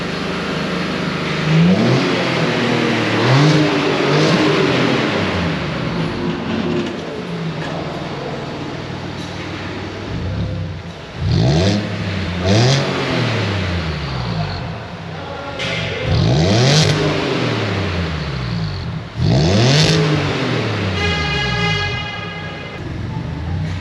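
An Audi A4 Cabrio with a 3.0 V6 engine under repair, struggling on a weak old battery: a loud, close engine runs and revs repeatedly in rising and falling sweeps over about twenty seconds.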